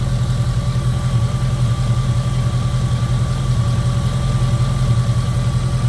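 A 2002 Jeep Grand Cherokee with the 4.7 V8 idles steadily and loud, running smoothly on all eight cylinders with a constant low rumble and no talking over it.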